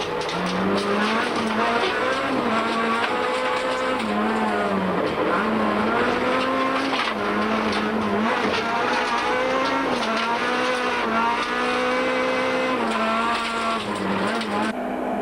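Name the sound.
Toyota rally car racing, onboard footage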